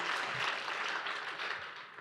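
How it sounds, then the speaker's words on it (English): Steady applause from a large audience at an awards banquet dinner, a dense wash of many hands clapping continuously at moderate distance. "let's all give a round of applause"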